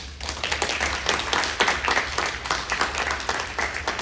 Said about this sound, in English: Let's give a round of applause for Bob Wayne